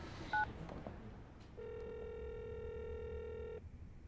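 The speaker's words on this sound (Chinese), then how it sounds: "我先打个电话啊。" A telephone call being dialled: a few short keypad tones, then a steady ringback tone lasting about two seconds, close and clear over faint room noise.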